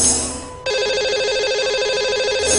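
After a brief lead-in, a telephone ring tone starts abruptly as a call is placed from a radio show studio, a steady, loud electronic warble repeating rapidly with no voices over it.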